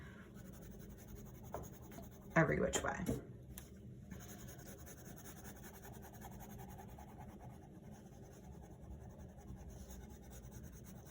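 Pencil strokes scratching back and forth on paper while sketching a dragon eye, a brief burst of rubbing near the start, then a quiet stretch with a voice speaking briefly.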